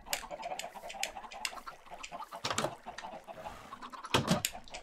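Minecraft chickens clucking in a cluster on a farm in the game, many short overlapping clucks with louder bursts near the end, fairly close, no talk.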